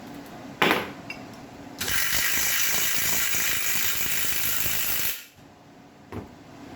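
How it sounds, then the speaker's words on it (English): Studs being worked out of a VW engine case with a power tool: a short clink, then a sustained mechanical whir of several seconds that cuts off, followed by a faint clink. "Trying to get all these studs out here."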